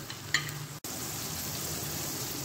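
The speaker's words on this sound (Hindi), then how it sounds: "इसको हम अच्छे से फ्राई कर लेंगे मटर को" Peas fry with salt, black pepper and cumin powder for matar pulao, producing a steady, soft, close hiss of frying that cuts out briefly and then resumes.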